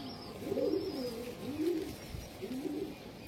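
A pigeon coos in soft, repeated rolling phrases, close and fairly quiet against a light background hiss, without talk.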